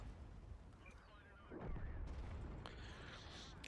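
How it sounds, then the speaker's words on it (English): Artillery shells strike a tank in World of Tanks, a low, muffled boom that rolls in partway through over a constant rumbling game soundscape, fairly faint and with no voices. "It says that I've been damaged by artillery fire, so obviously someone dropped some artillery on me."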